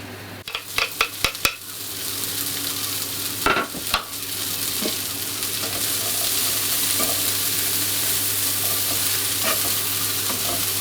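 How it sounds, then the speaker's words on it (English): Spring onion softening lightly in butter and bacon fat in a pan for a keto quiche, a steady close sizzle running throughout, with a few sharp utensil clinks and stirring knocks near the start. "now just slicing up some spring onion and I'm basically just blanching them lightly in the butter"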